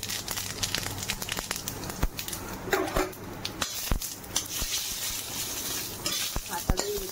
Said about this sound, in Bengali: হয়ে গেছে কালো জিরা, শুকনো লঙ্কা, সর্ষে একবার ফোড়ন দিয়ে দিচ্ছি